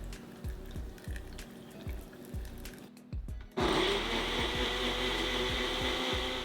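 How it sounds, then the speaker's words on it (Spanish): A blender whirs through cooked guajillo chiles with garlic, cumin and a splash of water, starting with short pulsing bursts and then settling into a loud, steady grinding roar. No one talks. "Vamos a poner 6 en la licuadora"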